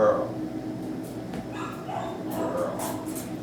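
A young puppy in a kennel gives short yips and whimpering barks, close and repeated over a steady background noise.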